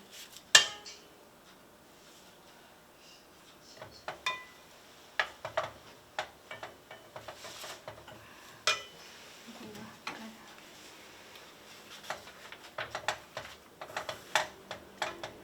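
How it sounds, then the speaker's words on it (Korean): Steamed dried pollack dish in soy sauce being served onto a plate in a cooking class: scattered clinks and taps of utensils against dishes, sparse and close, with quiet background between. "이제 완성 접시에다 한번 담아 볼게요"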